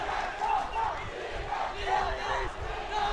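A school rugby crowd of St. Peter's College supporters at Havelock Park chants a rhythmic battle cry, voices rising and falling in repeated waves, loud and massed.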